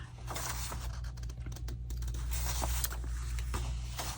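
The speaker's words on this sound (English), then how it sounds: "I'm going to cut these out" Scissors snip through paper while cutting out flower templates, a quiet run of crisp irregular cuts and rustles close by.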